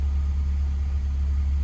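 A Honda K24 engine, freshly repaired after a head gasket replacement, idles with a steady, low rumble close by, even and unbroken with no voices over it.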